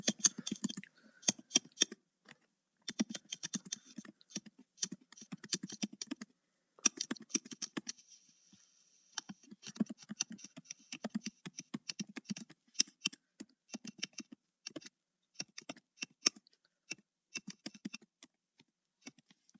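Rapid bursts of typing on a computer keyboard while writing code for a while loop, close and clear, with irregular clusters of key clicks separated by short pauses.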